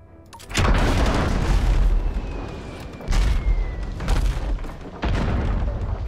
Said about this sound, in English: Do not be close for the double shot when it fires.